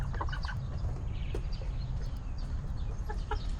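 Chickens cluck and chatter softly over a constant low background rumble, with scattered short calls throughout.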